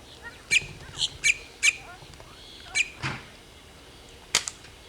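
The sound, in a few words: bird squawking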